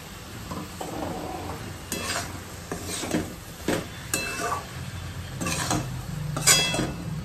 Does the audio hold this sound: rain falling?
no